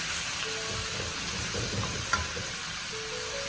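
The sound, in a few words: small mushrooms stir-fried in a wok over high heat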